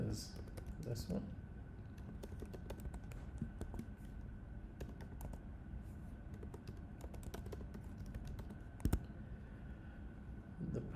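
A username is typed on a computer keyboard: rapid, irregular key clicks at close range, with a louder tap near the end and a person speaking over the typing.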